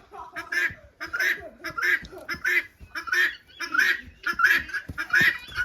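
Four guinea hens calling repeatedly in harsh, rhythmic honking cries, close by and loud, in a steady series of bursts that run through the whole stretch.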